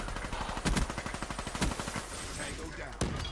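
Rapid automatic gunfire in Black Ops 3 multiplayer, a dense stream of close, loud shots with a few heavier bangs, the burst starting around the first second and continuing with a sharp blast near the end.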